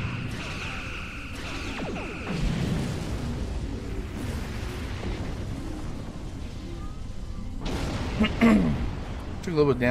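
Ship explosions in a Star Trek Online space battle rumble as dull, booming bursts over a dense, steady wash of game sound, with a louder cluster near the end.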